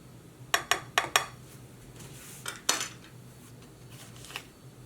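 Butter worked into a brown sugar and cinnamon streusel in a bowl, with a quick run of four sharp utensil clinks against the bowl, then two more scrapes and taps later, close and fairly quiet.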